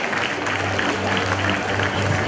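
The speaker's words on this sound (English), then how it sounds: "A big round of applause, please." Audience applause at a student conclave award ceremony in Madurai, a steady wash of clapping from a crowd, loud and continuous for the full span with no pause.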